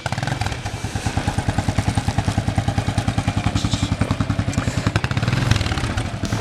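Small motorcycle engine revved steadily during slow-riding practice with no stabilizer, a loud, close, rapid pulsing throb that swells slightly near the end.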